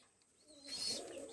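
A soft, low golden pigeon coo rises near the end of a quiet stretch, with a faint chirp above it.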